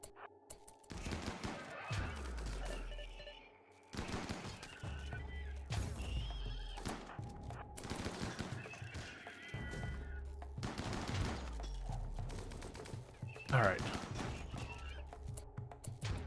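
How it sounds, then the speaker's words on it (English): Rapid bursts of assault rifle and machine gun fire in the colony-building game RimWorld, repeated volleys with heavy low thumps across the clip, fairly loud and continuous with brief gaps. "assault rifle, and machine gun, and fire at will"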